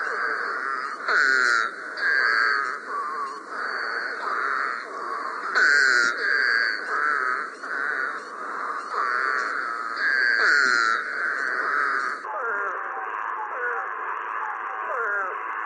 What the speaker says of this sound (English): So that was the spadefoot toad.